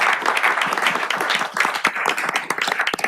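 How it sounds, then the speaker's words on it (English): Steady round of applause from a seated audience at a city council meeting, many hands clapping densely for about three seconds, close and loud with no voices over it. "it's still worthy of a round of applause for his heroic actions"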